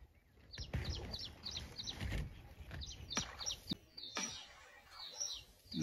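Small birds chirp in short, high bursts scattered through the clip, fairly faint and distant amid outdoor rustling and a few knocks at a snakehead fishing spot.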